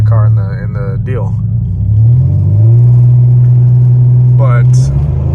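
A supercharged Pontiac car droning loudly at a steady low pitch inside the cabin, holding a constant hum that rises slightly partway through, with someone talking over it at the start and end.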